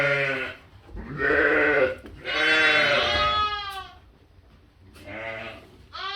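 Several loud, close lamb bleats with wavering, high-pitched cries, separated by short pauses.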